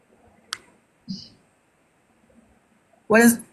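Computer mouse buttons click in a few sharp, isolated taps, close and fairly quiet, with short bursts of a nearby voice between them.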